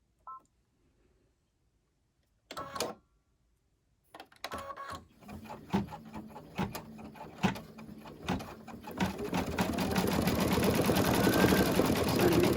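Embroidery machine stitching an Easter gift card and treat holder, a few brief starts followed by a steady, close mechanical whir and rapid rhythmic needle stitching that builds louder and continues alone.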